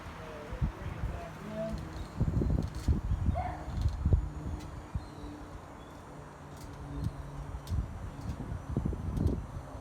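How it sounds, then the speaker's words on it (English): Steady gusty wind rushes outdoors beside a Winnebago Navion motorhome, with rustling and scattered knocks, and faint birds chirping in the distance. "it's windy out here"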